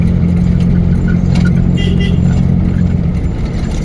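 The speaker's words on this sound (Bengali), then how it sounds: "তো জুনায়েদ মেইন রাস্তায় মোটামুটি ভালোই ড্রাইভিং করতেছে" A car drives along the Chandpur–Comilla main highway toward Hajiganj, with a loud, steady low engine and road rumble from inside the cabin throughout, joined by faint outside traffic noise.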